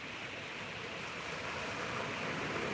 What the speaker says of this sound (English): Love the rich, frothy foam with these loud waves this morning.